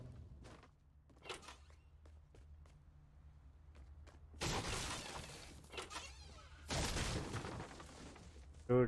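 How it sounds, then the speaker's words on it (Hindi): A loot chest smashed open in Fortnite, with bursts of breaking and shattering crashes at about the midpoint and again near the end, set among scattered clicks and steps. "हाँ भाई लूट चेस्ट तोड़ दिया मैंने प्रो हो ना।"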